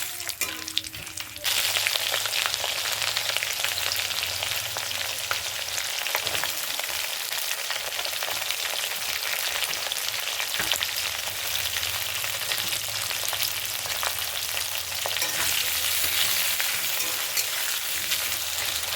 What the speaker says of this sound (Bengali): এলাচ, লবঙ্গ, ছোটো জিরে, বড় জিরে ও গোলাপ পাপড়ি যেটাকে বলে, এটাকে তেলে ভেজে নিতে হবে।